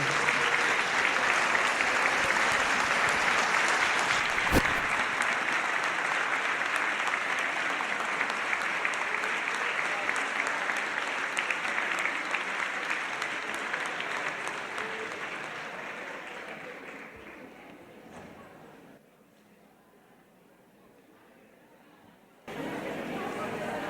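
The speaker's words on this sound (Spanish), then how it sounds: "les voy a pedir de vuelta un fuerte aplauso a todas aquellas egresadas que cumplen 50 años de graduada en la carrera" An audience at a 75th anniversary ceremony for a statistics degree program gives long, loud applause to graduates marking 50 years since graduating, steady clapping that slowly thins, dips near the end, then returns.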